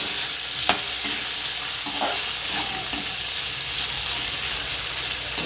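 Steady, fairly loud sizzling of potatoes frying in hot oil, with a few faint utensil taps; no talking.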